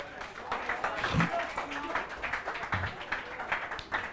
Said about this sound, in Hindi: ताली बजाइए इसके लिए।